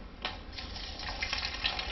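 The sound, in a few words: water draining out of bottle filter into sink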